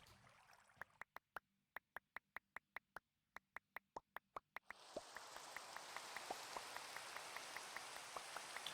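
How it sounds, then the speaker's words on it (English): Minecraft rain sets in after a run of sparse, evenly spaced ticks, then becomes a soft, steady patter broken by regular drip-like clicks. The sound is fairly faint and there is no speech. "It started raining."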